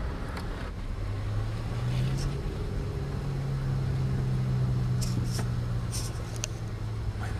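A car being driven, steady low engine hum and road noise from inside the cabin with a few brief clicks and knocks, no clear talk over it.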